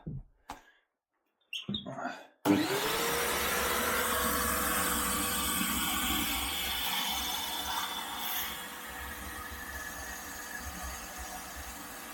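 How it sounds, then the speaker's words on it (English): A wet vac clicks and thumps briefly, then kicks on and runs as a loud, steady roar while sucking condensate water from an air-conditioner drain, easing slightly toward the end. "Right, let's get the wet vac on."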